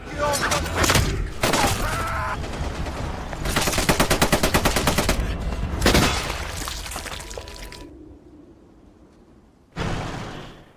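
Gunfire in a Nazi-era war film where a Finnish ex-soldier turned gold prospector fights German troops: loud rapid automatic bursts and single shots, then a quiet fade before one more sharp burst near the end.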